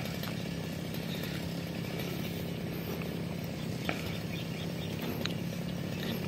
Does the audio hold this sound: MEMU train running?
no